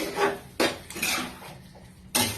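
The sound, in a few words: stirring curry with garam masala in pan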